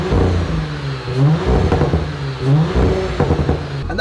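A 2018 Audi S5 Sportback, crash damaged, revs its engine in repeated loud blips, the pitch rising and falling several times in a deep, throaty burble with no one talking.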